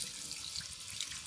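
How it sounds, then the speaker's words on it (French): A thin stream of tap water runs into a sink while makeup brushes are washed, a steady soft hiss over the short span. "Là, je viens à côté du filet d'eau"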